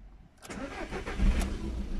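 A 2010 1.6-litre diesel car engine cranks and catches after a quiet moment. It settles into a rumbling, close idle.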